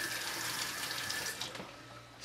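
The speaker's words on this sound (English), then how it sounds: "now I'll rinse the whole thing off again." Running water from a tap splashes over a dyed plastic toy arm part being rinsed in a sink, a steady close hiss of flowing water that thins out near the end.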